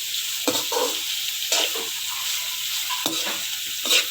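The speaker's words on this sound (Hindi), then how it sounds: "तो अब मैं इसी ऑयल में ये प्याज हल्का सा, इसको भी मैंने हल्का सा फ्राई करना है।" Sliced onion sizzling in hot oil in a pan while a spoon stirs it, with a steady frying hiss and four distinct scraping stirs spaced about a second apart, close and fairly loud, with no talking.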